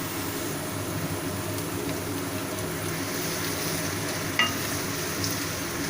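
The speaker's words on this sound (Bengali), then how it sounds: "আলুটা একটু ভাজা ভাজা হয়ে এসছে, আমি পেঁয়াজ বাটাটা দিয়ে দিচ্ছি।" Potatoes frying with onion paste in a pan, giving a steady, loud sizzle with light stirring scrapes throughout.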